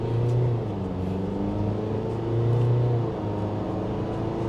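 A JAC T9 diesel SUV in sport mode accelerates with a steady engine drone heard from inside the cabin. The low hum swells twice into louder revving surges, with no voices.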